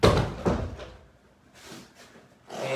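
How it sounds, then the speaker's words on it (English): A door is pushed shut in a quiet room, giving one firm thunk near the start and a second knock about half a second later, then low room tone. A softer knock and rustle follow near the end. "I'm going to shut the door here right now so I get better acoustics"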